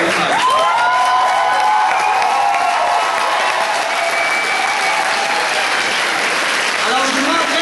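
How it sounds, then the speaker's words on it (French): A live audience at a French-language spoken-word performance breaks into steady, sustained applause that fills the room, with some cheering mixed in. "je vous demanderai une bonne main d'applaudissement pour Amélie Prévost"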